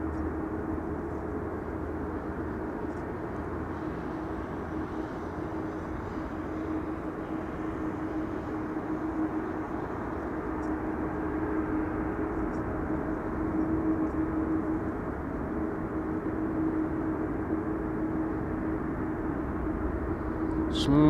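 Airliner landing at Amsterdam Schiphol Airport on a runway other than the expected one, a steady broad roar of engines and rushing air held evenly throughout, swelling slightly toward the end.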